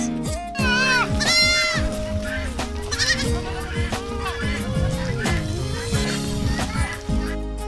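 Goats bleat repeatedly in a wavering, nasal chorus, close and loud, with overlapping calls from several animals.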